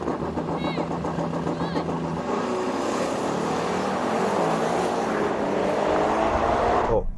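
SUVs, a Ferrari Purosangue, a BMW X5 M and a Chinese SUV, launch in a drag race, a loud continuous engine roar that builds and holds throughout with voices talking over it.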